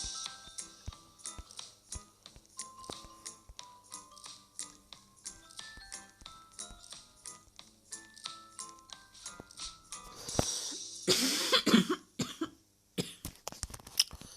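A person coughs several times in quick harsh bursts near the end, after a stretch of light clicking and tapping.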